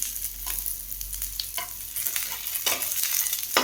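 Coconut pieces and a bit of tamarind are sautéed in a hot pan, with a low sizzle under repeated close scraping and stirring strokes at an uneven rhythm.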